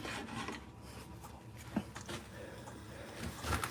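Wood carved by hand with a 5/8 gouge that is going dull, producing short rough scraping strokes with a few sharp cuts, close but fairly quiet.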